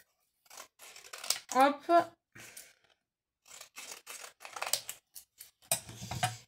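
Scissors snip through paper up close in several short bursts, while someone speaks softly in French between the cuts, crafting a small Easter basket.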